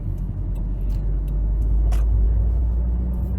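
Engine of a 2015 Subaru WRX, heard from inside while driving: a steady low rumble with road noise, fairly loud and continuous, with a few faint ticks above it; no talking.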